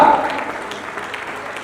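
Audience applause at an annual school prize distribution ceremony, a dense burst of clapping from many hands that is loud at first and then fades into a softer, scattered patter, with a voice over the start.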